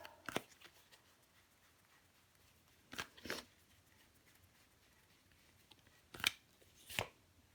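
Tarot cards handled and laid down during a reading, four brief soft slaps and shuffling swishes separated by quiet pauses, close and faint.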